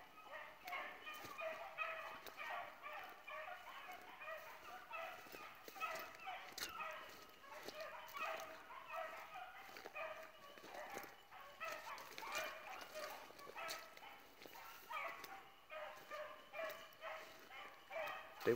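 A pack of four hunting dogs, one male and three females, bay and bark repeatedly on a chase, the overlapping calls carrying from a moderate distance in an open outdoor setting.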